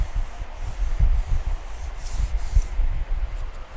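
Dry sanding of a car quarter panel with 600 and 800 grit paper, uneven rhythmic rubbing strokes close by, no talking.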